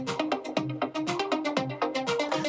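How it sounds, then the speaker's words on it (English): Surge variant of the iOS 26 Reflection ringtone, a dense, busy run of rapid bright synth notes over a pulsing low beat, loud and continuous with no talking. "And then we've got the surge variant,"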